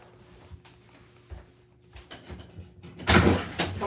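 A house door opens to let a ladybug out, with faint clicks and handling noises first, then a louder rattling clatter and slide of the door near the end.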